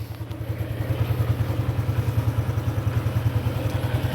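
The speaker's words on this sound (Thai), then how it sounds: "สตาร์ทรถได้เลยครับด้วยรีโมทครับ" A Honda Wave 125 motorcycle, started by remote control, idles close by with a steady, pulsing low engine throb and light mechanical clatter throughout.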